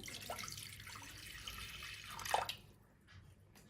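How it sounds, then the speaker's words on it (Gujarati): Water runs and pours into a pressure cooker in a home kitchen, a steady splashing stream with a brief louder gush near the end before it tapers off, with no talking. "હવે આ કુકર લઈ અને કુકરમાં પાણી ઉમેરી દઈશું."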